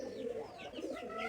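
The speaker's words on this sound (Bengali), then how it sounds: "এই যে দেখতে পাচ্ছেন এখানে কবুতর আছে, খুব সুন্দর কবুতর" Pigeons coo softly and repeatedly at a pigeon loft, low throaty calls heard faintly at a distance with no talking.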